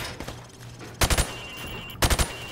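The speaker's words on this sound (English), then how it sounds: "I want you to shoot the targets through the wood" Rifle fire in Call of Duty cracks through plywood targets in two quick bursts of about three sharp, loud shots each, a second apart, over a low steady background hum.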